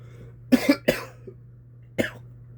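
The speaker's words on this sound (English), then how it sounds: "I'm not sick, but I still have the cough." A few sharp coughs, two quick ones together then another after a pause, close and moderately loud over a faint steady hum.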